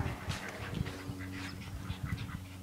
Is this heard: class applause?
no